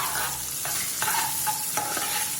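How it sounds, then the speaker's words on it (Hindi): Finely chopped large onion frying in hot oil with dry chili and a bay leaf, steady sizzling with several scraping stirs of a spoon against the pan, close and fairly loud, no talk. "अब हम इसमें डालेंगे एक बड़ी साइज की ऑनियन मैंने बारीक काटी हुई है,"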